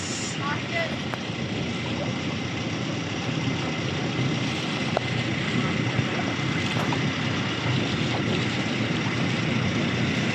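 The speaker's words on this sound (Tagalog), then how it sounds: "Malakas ng alon, ha." Strong waves wash steadily around a boat during island hopping off Quezon, a continuous broadband rush of water and wind buffeting close to the microphone, with voices partly under the noise.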